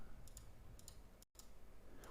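Several soft, close computer mouse clicks fall at irregular moments while loops are selected in 3D modelling software, heard alone over faint room hiss with a very short dropout partway through.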